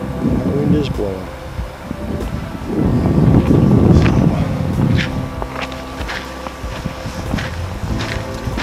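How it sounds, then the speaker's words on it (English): Wind gusts across open Alaskan country and buffets the microphone, a loud rushing roar that swells and fades, with a voice speaking beneath it and scattered footsteps. "The wind is blowing."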